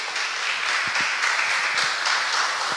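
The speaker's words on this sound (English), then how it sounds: "Could you all give them a round of applause, please?" Audience applause after a presentation at an evening talk event, a steady dense wash of many hands clapping at moderate level, continuous for a few seconds.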